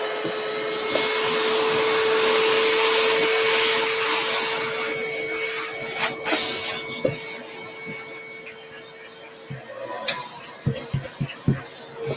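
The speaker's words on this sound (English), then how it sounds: "we get to use our second-ish most loudest guy, which is the vacuum cleaner" A vacuum cleaner whines loudly and steadily up close, then winds down into scattered clicks and knocks of handling.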